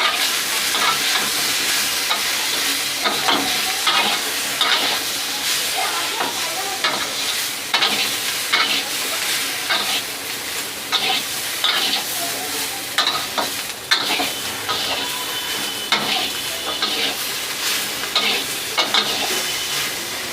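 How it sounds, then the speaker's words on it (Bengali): Bitter gourd fried with turmeric powder in a pan gives a loud, continuous sizzle, with frequent scraping strokes from stirring throughout and no voices. "হলুদ গুঁড়ো দেব পরিমাণ মতো, সামান্য 1 চামচ দিয়ে আর একটু কষতে থাকবো।"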